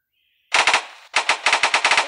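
Rapid automatic gunfire in a video game rings out in two loud bursts, a short volley then a longer string of sharp evenly spaced shots, close and dominant with no talk.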